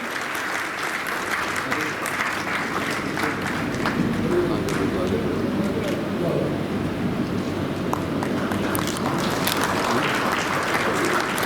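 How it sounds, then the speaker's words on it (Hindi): A crowd at a journalists' honour ceremony in Gorakhpur gives dense, sustained applause that holds at an even level throughout, with faint voices beneath the clapping. "तो जोरदार तालियों के साथ एक बार स्वागत करें।"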